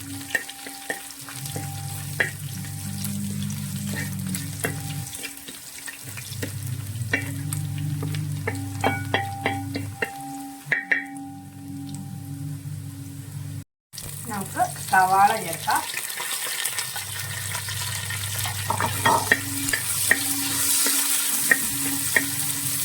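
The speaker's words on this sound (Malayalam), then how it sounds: "ഒന്ന് നന്നായിട്ടൊന്ന് മൂത്ത് വരുമ്പോൾ നമുക്ക് അതിലേക്ക് സവാള ചേർത്ത് കൊടുക്കാം" Onions sizzling and being stirred in a pan, a home-style Kerala chicken stew in the making, with steady frying hiss, occasional tap running and scattered clinks of a spoon against the pan, close by.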